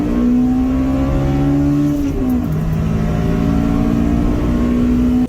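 A Honda Del Sol's B16 1.6-liter engine revs loudly and steadily up close, pitch rising through the gears with a brief dip before climbing again.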